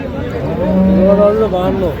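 A bull calf lets out a single drawn-out moo at a cattle market, loud and close, wavering in pitch for about two seconds with no voices over it.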